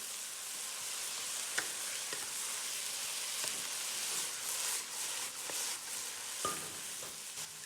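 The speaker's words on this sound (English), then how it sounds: "Now add the soy sauce, hoisin sauce, and hot oil. Mix it all in." Beef is being stirred with soy sauce, hoisin sauce and hot oil in a hot pan, giving a steady close sizzle broken by occasional scraping clicks of the utensil.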